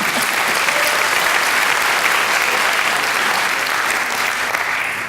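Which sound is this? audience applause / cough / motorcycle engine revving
audience applause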